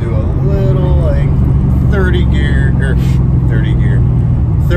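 Boosted 2V car pulling hard from a 30 mph roll in second gear, a loud droning engine note that stays steady throughout, with a brief person's voice in the cabin over it.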